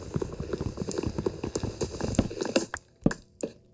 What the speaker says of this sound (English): Hi, horse.